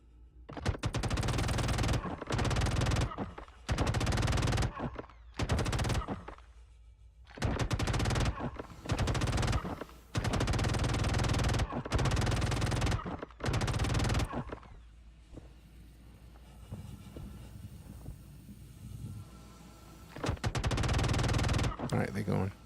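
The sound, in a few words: shotgun fire in video game Star Citizen Arena Commander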